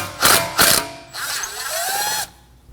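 A power tool backs out a number 3 Phillips screw that holds the front brake rotor to the hub on a 2016-2022 Honda Pilot: two short close bursts, then a longer whirring run.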